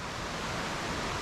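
Steady broadband rush of a waterfall in Koh Chang National Park, Thailand, a constant white-noise roar with no breaks or voices over this short stretch.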